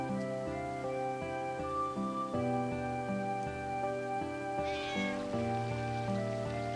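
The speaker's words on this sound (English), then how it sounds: "That is one weird looking cat." A cat meows in the video game Final Fantasy IX, in Dali Village, over stepping melodic game music. The mewing calls blend with the music at moderate loudness and nobody talks.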